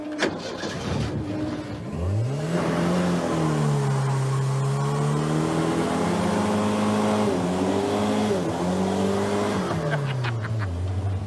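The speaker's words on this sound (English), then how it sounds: "It does 2 burnouts." A car doing two burnouts at Woodburn Drag Strip, the engine revving hard and holding high, wavering pitch for several seconds before dropping off, loud and close.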